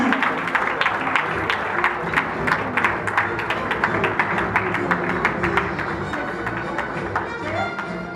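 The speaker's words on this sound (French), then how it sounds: "Continuez à applaudir" Sustained audience applause at a women's movement launch event, dense rhythmic clapping from a crowd that stays loud and steady throughout, with a voice speaking over it.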